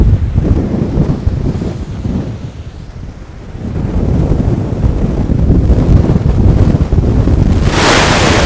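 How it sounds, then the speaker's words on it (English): Waves breaking against a breakwater on a lake at night during a lake-effect snowstorm, with strong wind buffeting the microphone; a steady, loud roar of surf and gusts that swells and eases over several seconds. "You can probably hear the waves."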